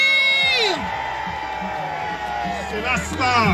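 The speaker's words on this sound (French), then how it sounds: "Est-ce qu'on peut l'applaudir?" A crowd cheers and whoops loudly at an evening gathering honouring a Moustadjan Foundation staff member, shrill voices rising in bursts over a steady roar of the audience.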